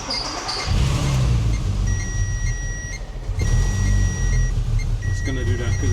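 A 3.2 VR6 engine in an all-wheel-drive-swapped VW Scirocco idles roughly with air leaks, a steady low rumble close by, with a few high electronic beeps over it.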